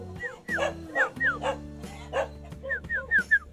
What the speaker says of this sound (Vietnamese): Ở đây xuất hiện vài em chó rồi kìa.